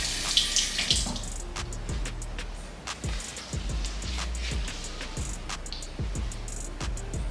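Water running from a bathroom tap into a sink while hands are wetted for a facial cleanser, a steady close splashing stream with small drips and splashes breaking through.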